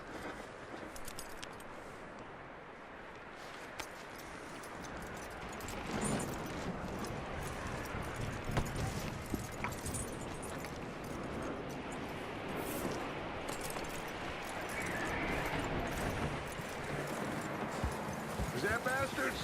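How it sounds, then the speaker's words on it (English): Horse hooves clip-clop steadily at close range in Red Dead Redemption 2, with a few jangling metallic clinks and some background activity throughout. "That looks like a decent horse."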